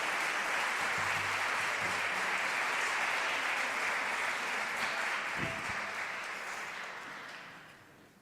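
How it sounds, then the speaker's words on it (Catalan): Sustained applause from an audience after a rondalla, a Valencian plucked-string ensemble, performs in winter in València. Dense steady clapping fills the clip, holding loud before gradually thinning and fading toward the end. "Un fort aplaudiment novament per a ells"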